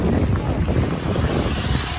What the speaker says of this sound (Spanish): Miren cómo van los chorros de agua ahí.